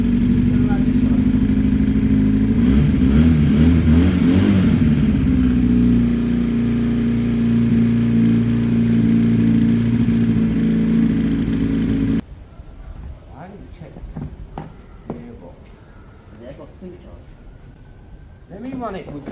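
A Piaggio Fly 125 scooter idles after an engine swap, a loud, steady close-up engine drone with a short rev in the middle that cuts off abruptly, followed by quieter handling noises and brief talk.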